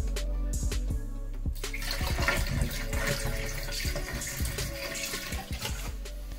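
Water runs steadily from a camper shower fixture during winterization of its water system, a loud continuous splash and hiss with a few sputtering pulses at the start.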